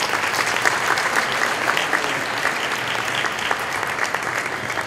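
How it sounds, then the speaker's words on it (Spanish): An audience at a school event in Piura applauds a guest speaker's introduction with continuous, even clapping throughout, moderately loud and steady. "Un aplauso para él."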